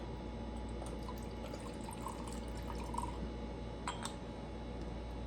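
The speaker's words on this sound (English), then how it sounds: "Let me pour some out." Vodka infused with dried fruit, including dried cranberries, trickles steadily from a container into a glass, a quiet liquid pour over a constant low background hum.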